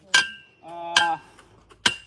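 A hammer cuts a taut string line on a work site: three sharp, bright metallic clicks spaced about a second apart, with a ringing, twanging tone between the first two.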